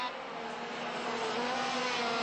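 Two-stroke racing motorcycles at the 1997 Ulster Grand Prix, a pack of bikes buzzing with a high, slightly rising whine at moderate distance.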